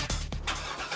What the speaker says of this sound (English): You hear that? That's the sound of America's only sports car.